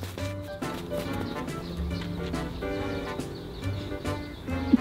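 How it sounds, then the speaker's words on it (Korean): A donkey's hooves beat the ground as it runs, a quick, uneven series of soft thuds heard fairly close against a quiet outdoor background, with faint voices and a bird now and then. "당나귀 뛰는 거 보고 싶어요."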